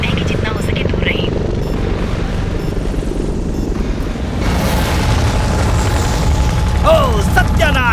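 In an action film, a helicopter hovers overhead with a loud, continuous rotor rumble and low booming mechanical noise, while voices speak over it and the sound swells midway.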